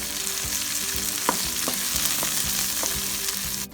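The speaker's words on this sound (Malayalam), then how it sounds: "നമുക്ക് ഇളക്കി കൊടുക്കാം." Chopped tomatoes fry in a hot pan for a duck egg roast while being stirred, a steady close sizzle broken by several soft scraping strokes of the spoon.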